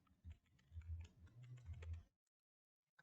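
Rapid keystrokes on a computer keyboard while entering MongoDB commands at a command line, a close burst of clicky typing for about two seconds that then stops abruptly into silence.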